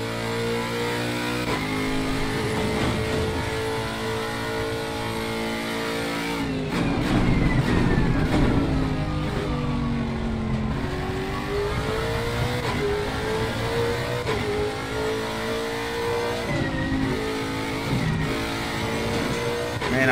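Lexus RC F GT3 race car engine in Assetto Corsa Competizione at Kyalami, revving loudly and continuously through gear changes with rising and falling pitch as it accelerates and brakes, close and dominant throughout.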